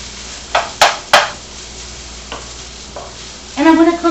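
Chicken wings cook fast in a hot pan, a low sizzle under a few sharp spoon clacks and scrapes against the metal, close and loud, ending in a brighter burst of frying.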